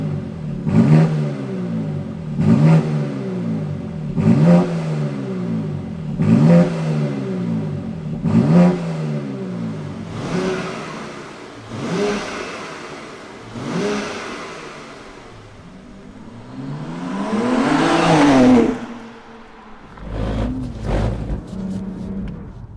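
A 510 bhp BMW X4M Competition engine revs repeatedly from inside the car, rising and falling in a steady rhythm of loud pulls, then one longer climb before a sharp drop and a brief blip at the end.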